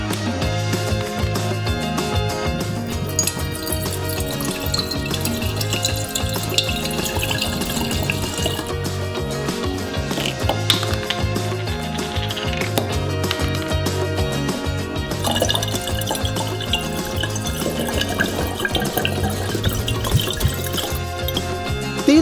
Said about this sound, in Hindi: अंतिम फ्लास्क बचा है और हम इसमें स्पिरिट की 2 बोतलें डालेंगे।